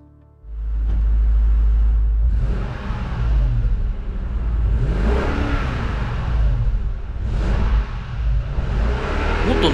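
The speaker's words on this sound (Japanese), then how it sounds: "モデリスタのいかついリアスカートと2本出しのマフラーなんですけれどもね、このマフラーの音聞いてみましょう。" A Lexus LX570's 5.7-litre V8 revs through a Modellista twin-exhaust muffler, starting up and then climbing in several loud, close, clear-toned blips that swell and fall over a steady rumble.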